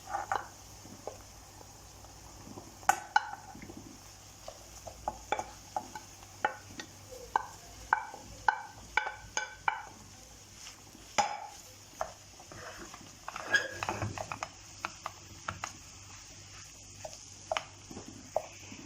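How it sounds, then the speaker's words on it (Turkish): Collard greens tipped into softened onions in a pan and stirred, with repeated light clatters, scrapes and soft squishy knocks of a utensil against the pan, fairly quiet and irregular, with no talk. "Karıştırıyoruz ve şimdi kara lahanalarımızı soğanlarımıza ilave ediyoruz"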